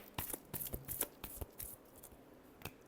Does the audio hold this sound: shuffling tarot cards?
yes